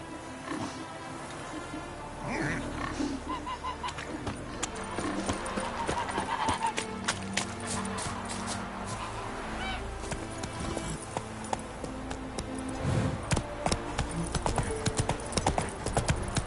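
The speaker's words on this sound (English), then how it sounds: "Run, Roach." Horse hooves gallop in The Witcher 3 as a steady, rapid clip-clop, with game ambience and occasional neighing mixed in throughout.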